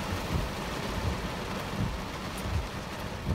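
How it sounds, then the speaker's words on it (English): Steady rain falls over a supermarket parking lot on a gray day, a dense even hiss with soft low thuds scattered through it and no voices. "It's just a long, gray, rainy day."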